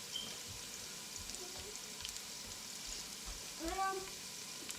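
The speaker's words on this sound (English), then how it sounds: "you already know what you're looking for when you're sauteing garlic" Garlic sautéing in a pan for an arrabbiata sauce, a soft continuous sizzle with occasional stirring scrapes and a brief high squeak near the end.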